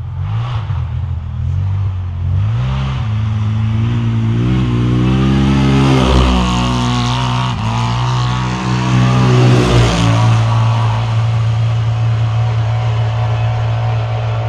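A 2020 Polaris Scrambler ATV engine revs loudly and close, its harsh drone rising and falling in pitch through sustained throttle bursts, with no talk over it.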